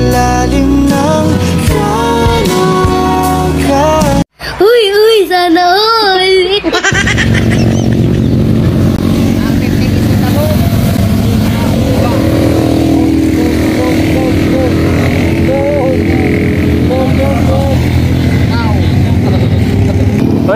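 A big bike motorcycle engine rumbles loudly and steadily, first under music-like tones and then alone as a low, continuous drone, with people talking over it.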